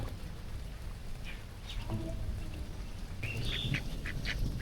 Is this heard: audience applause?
no